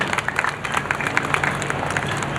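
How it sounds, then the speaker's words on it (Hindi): Audience applause at a Hindu conference event on stage, a steady bed of dense clapping from a crowd with no voices on top, moderately loud and continuous. "आनंद लीजिए तालियों के द्वारा।"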